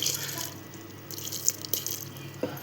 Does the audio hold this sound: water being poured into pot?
yes